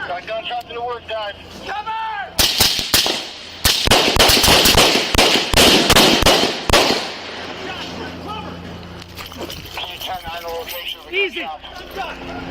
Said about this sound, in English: Got gunshots in the works, guys.